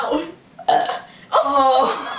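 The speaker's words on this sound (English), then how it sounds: "that's a burp contest" A loud, rumbling burp during a burp contest, rising after a short pause, with people talking and laughing around it.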